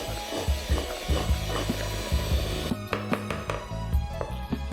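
An electric whisk beating pancake batter in a bowl, a close mechanical whirring with repeated knocking and scraping strokes against the bowl, and no talking.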